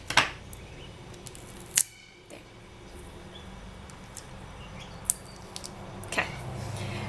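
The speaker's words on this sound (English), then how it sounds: "I'm just going to use my scissors to get that off of my fingers." Scissors snip several times in sharp, isolated clicks while trimming polymer clay off fingers, heard up close against a quiet room background.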